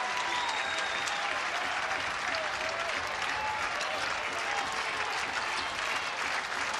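Baseball crowd at a Nebraska vs Arizona State game on its feet cheering and applauding for the pitcher with two strikes, a loud steady roar of clapping and shouts filling the stadium throughout.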